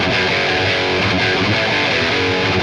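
Distorted electric guitar played through an Oyaide Ecstasy guitar cable, thick sustained overdriven chords ringing loud and dense without pause, no voices over it.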